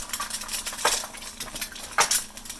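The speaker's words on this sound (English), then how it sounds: "Crush the yolk" Metal utensil pressing and scraping a fried egg yolk in a pan, a few sharp clinks and scrapes against the pan over faint background noise.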